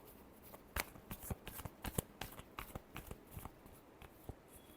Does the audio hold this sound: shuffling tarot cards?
yes